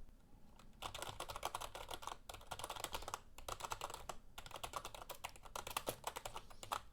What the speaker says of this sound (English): let's hear what it sounds like when you're typing